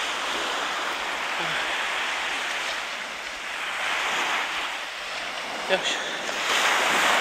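Sea waves wash steadily onto Omura beach in Toyama, a broad continuous surf rush with some wind noise that swells slightly toward the end; someone briefly speaks.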